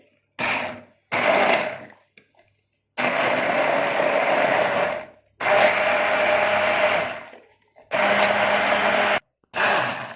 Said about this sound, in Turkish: Şimdi bunu şöyle blenderda çekeceğiz.